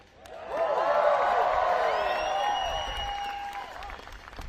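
Large crowd on the White House lawn at a summer evening event clapping and whooping, with applause swelling quickly and holding steady, then fading slightly as it trails off.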